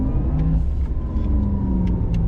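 Porsche Taycan 4S electric car accelerating hard on a track, a steady loud motor hum with rising whine and tire and road rumble, close and continuous, no talk.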